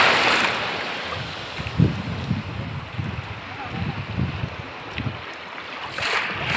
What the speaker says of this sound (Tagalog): Ay, lumaki ang alon.